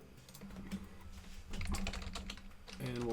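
Login credentials typed on a computer keyboard: a rapid, close run of light key clicks at uneven rhythm, quiet throughout, with faint background hum.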